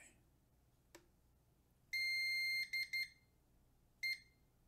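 Sharp electronic beeps from a computer UPS power supply being switched on sound in the quiet: one short tick, then a long tone followed by quick short beeps, and a final beep after a pause.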